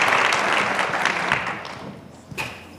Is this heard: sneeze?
no